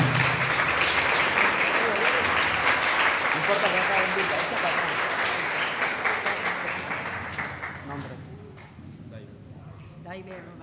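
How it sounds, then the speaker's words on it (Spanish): Loud, sustained applause from a church congregation at a Holy Saturday Mass baptism, dense clapping that holds steady for several seconds then gradually thins and fades toward the end. "Un aplauso para Victoria."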